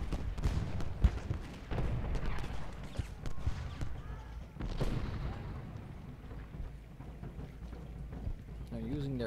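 Artillery booms roll through a Civil War battle in the video game Ultimate General: Gettysburg, with dense, overlapping blasts and rumbling over a continuous wash of battlefield noise.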